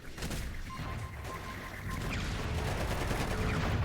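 Rapid bursts of explosions and gunfire in Crackdown 2 crackle and thud in a dense, continuous barrage that grows louder and more sustained toward the end.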